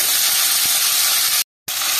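Fish sizzling in hot smoking oil in a wok for a Bengali parshe fish curry: a loud, steady hiss of frying runs almost unbroken, cut by a short silent gap before the sizzle returns.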